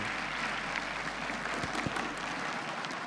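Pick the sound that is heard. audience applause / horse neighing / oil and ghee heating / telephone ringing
audience applause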